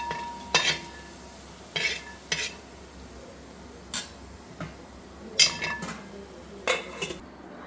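A utensil stirs and scrapes fried onions and curry leaves in a pan, a series of sharp metallic clinks and scrapes in an irregular rhythm, close and alone without talk.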